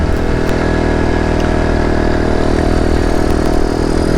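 Boom Vader Grom-clone small motorcycle engine running steadily, a loud, close, continuous chugging idle with a light mechanical clatter and no speech.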